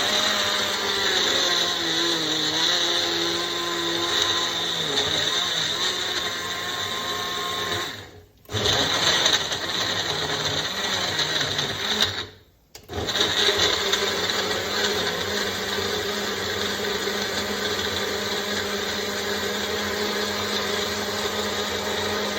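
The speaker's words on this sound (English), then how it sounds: "It's just blended together, tomato and the onion." A blender whirs loudly and steadily, purĂ©eing tomato and onion into a sauce, its motor cutting out twice for brief pauses before resuming at full speed.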